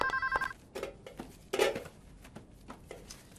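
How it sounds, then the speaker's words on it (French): A telephone bell rings in a home in two short bursts near the start, followed by clattering handling noises and small knocks with no talk. "Je devrais couper ce téléphone."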